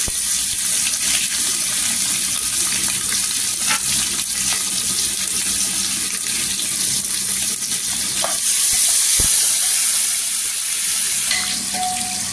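Curry leaves and onion sizzle steadily in hot oil for an Indian tempering, a continuous loud frying hiss with no speech.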